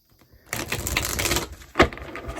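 Tarot cards being pulled from a deck: a quiet start, then about a second of dense papery shuffling and slapping, followed by one sharp card snap near the end.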